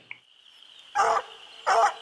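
A blue coon dog barking at a raccoon up a tree in the woods, two loud full barks a moment apart, with a faint steady high whine of insects or wind behind them.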